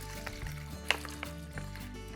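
Veggie stock is poured into a large bowl for cream of lentil soup, making a soft, quiet liquid splash and trickle under background music.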